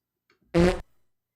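A single short fart sound effect, a loud buzzy blurt lasting about a quarter second, stands alone in silence.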